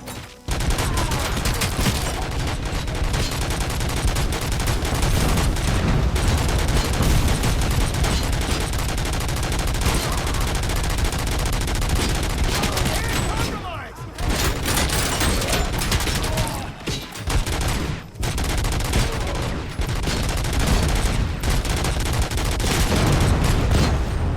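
Sustained gunfire in the RoboCop: Rogue City video game, with dense, continuous bursts of shots and booms running loudly for the whole stretch and only a couple of brief dips in intensity.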